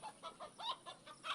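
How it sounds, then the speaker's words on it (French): A rooster gives a series of soft, quick clucking calls in a rhythmic run of about seven notes, faint and fairly close with no other sound around it. "C'est un coq"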